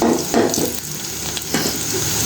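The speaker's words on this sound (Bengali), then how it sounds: "আমার পেঁয়াজ রসুনটা একটু লাল লাল হয়ে আসছে।" Onion and garlic frying in a pan, a steady close sizzle with a few louder bursts that sound like stirring.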